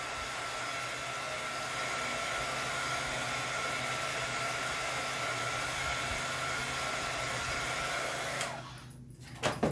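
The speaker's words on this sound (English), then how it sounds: "let's go ahead and take the heat gun and do a quick dry" A heat gun blows a steady, loud whooshing drone while drying a craft project, running continuously before cutting off near the end with a few small clicks and handling noises.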